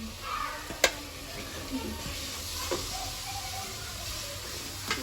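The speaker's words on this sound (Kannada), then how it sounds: "ಶುಂಠಿ ಬೆಳ್ಳುಳ್ಳಿ ರುಬ್ಬಿ ಇಟ್ಕೊಂಡಿದ್ಲಲ್ಲ ಅದನ್ನ ಹಾಕಕತ್ತಲ್ಲ ನೋಡ್ರಿ" Ground ginger-garlic paste frying in a pan, a low steady sizzle broken by a few sharp scrapes and taps of a spoon, close but quiet.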